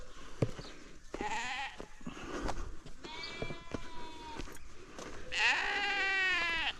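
Sheep bleat in a rural field with corn near Chefchaouen, Morocco, several wavering calls spread across the stretch, the loudest and longest near the end, over faint outdoor background noise.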